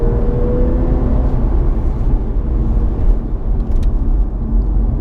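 A remapped Audi S5 accelerating hard, heard as a loud, continuous low rumble of engine and road noise from inside the car.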